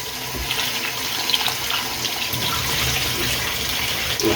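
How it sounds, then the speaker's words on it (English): Tap water runs steadily into a sink as mushrooms are washed under it, a close continuous splashing with small irregular spatters and no talk. "Under running water, I'll just clean that off."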